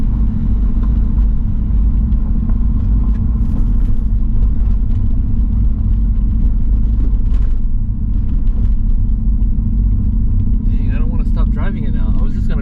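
A 1988 Toyota Supra with a swapped 1JZ engine drives along, giving a constant deep rumbling drone heard from inside the car, with a faint voice briefly near the end.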